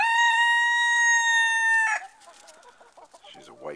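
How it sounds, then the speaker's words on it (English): A White Rock hen lets out a long, loud, sustained tonal call that breaks off into a few softer, quicker clucks, heard close up with no talking. "That's Matilda."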